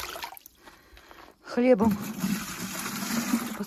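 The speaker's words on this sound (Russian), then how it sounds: "Сегодня поливаю" Water pours and splashes steadily onto garden plants during watering, continuing under a voice talking close by.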